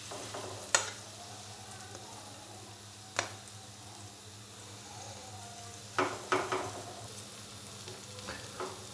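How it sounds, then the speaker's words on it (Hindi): Potato and cabbage snacks fry quietly in oil over a medium-low flame, a soft steady sizzle with a few sharp clinks and stirring knocks scattered through. "मीडियम से लो फ्लेम पे हमने इनको फ्राई करना है तकरीबन 5 से 6 मिनट के लिए"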